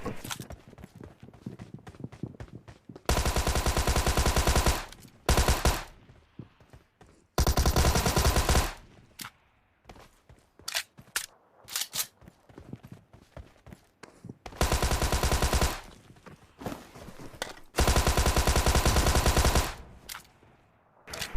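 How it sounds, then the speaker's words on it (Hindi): Tommy gun fire in PUBG Mobile, loud sustained automatic bursts of about two seconds each, repeated several times with short gaps, other clattering game sounds between them. "टॉमी गन मिलेगी, फिर लग जाएंगे बंदे पहले टॉमी से ही"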